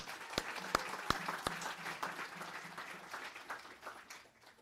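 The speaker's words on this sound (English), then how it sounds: "So if we could have a round of applause for advancement." An audience at a university athletics announcement applauds, starting with a few sharp claps and swelling into steady clapping that gradually fades, moderately distant in a hall.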